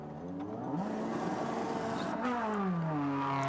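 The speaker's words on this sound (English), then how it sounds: "Engine note rises, Paffett on his way out." A DTM race car pulls out of the pit lane at the Norisring, its engine revving up and climbing through the gears with a loud, rising whine and gear-change dips, heard alone with no talk.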